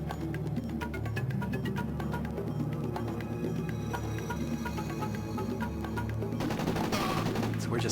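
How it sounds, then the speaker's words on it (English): Rapid gunfire from the video game Corpse Killer as zombies are shot in a graveyard, a continuous dense fusillade of crackling shots over a low droning backdrop, steady throughout and swelling near the end. "here in the graveyard, shooting our zombie pals"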